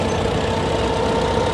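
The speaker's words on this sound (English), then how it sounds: "is a CAT 30 track type tractor" Caterpillar CAT 30 track type tractor, an antique crawler shown at a machine parade, its engine running in a steady, continuous low drone with no speech on top.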